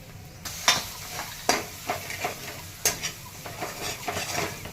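A spoon stirs spices into ridge gourd curry in a pan: close scraping and clinking strokes repeat at an irregular pace over a soft background sizzle.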